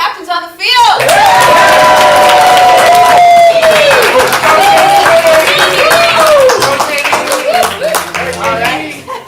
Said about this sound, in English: I need you to shout, clap, holler. Let's make some noise.